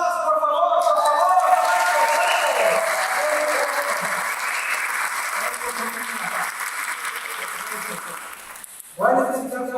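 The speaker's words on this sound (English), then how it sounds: "A round of applause, por favor, por favor." An audience at a community celebration at a college breaks into loud, dense applause that swells early, slowly thins out, then is cut by a voice near the end.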